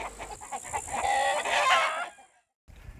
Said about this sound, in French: l'élevage de la poule noire d'Alsace